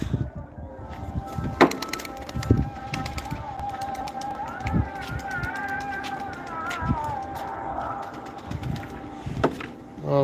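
Soft, repeated cooing from pigeons close by, mixed with scattered bird calls and occasional sharp clicks and knocks.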